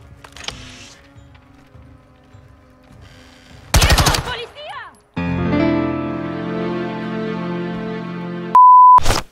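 A newly picked-up gun firing in Call of Duty: Modern Warfare II, loud bursts of rapid automatic fire after quieter game noise, ending with a sharp electronic beep.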